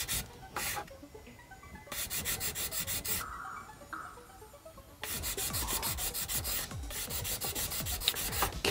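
Rapid back-and-forth rasping of 400-grit sandpaper smoothing a seam line on a 1/60 Perfect Grade Gundam model kit, close-up strokes in several bursts separated by short pauses.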